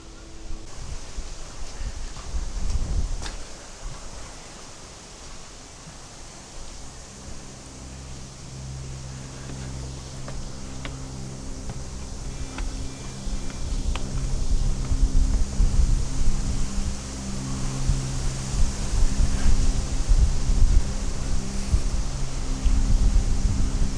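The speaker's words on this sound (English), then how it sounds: "they are very sensitive to wind noise, so hopefully wearing a microphone will cut the wind noise down a bit" Wind buffets an outdoor microphone on the Hin Chang Si trail in Khon Kaen, Thailand, a rumbling, gusting low roar that builds and stays loud, with faint music underneath.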